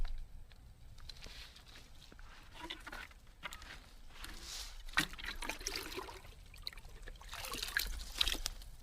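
Water trickles and pours into a 10-liter dry bag through a filtration system, a soft, continuous splashing and gurgling that rises and falls, fairly faint and close, with no talking.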